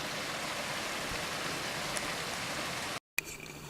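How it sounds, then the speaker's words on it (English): Steady broadband rush of tiny creek waterfalls along the Sandspring Trail in Shartlesville, Pennsylvania, constant and fairly soft, briefly cut off near the end before resuming. "tiny little waterfalls."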